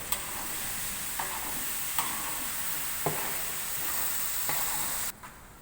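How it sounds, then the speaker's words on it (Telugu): Raw plantain pieces are stirred in a sizzling frying pan: a steady frying hiss, with a spatula scraping through in a sharp stroke roughly once a second, close and alone. "అరటికాయ ముక్కలు వేసుకోవాలండి. బాగా కలుపుకోవాలి."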